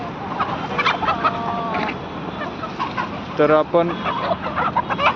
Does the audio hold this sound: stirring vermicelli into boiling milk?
no